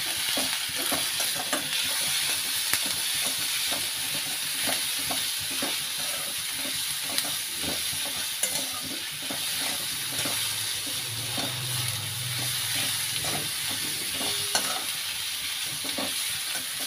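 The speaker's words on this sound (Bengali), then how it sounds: "নুনটা দিলে পেঁয়াজটা তাড়াতাড়ি নরম হয়ে যাবে। হলুদ দেবো, দিয়ে এটা নাড়বো।" Onions fry in a pan with salt and turmeric, a constant sizzle broken by repeated scraping and clinking strokes as they are stirred, with no talking.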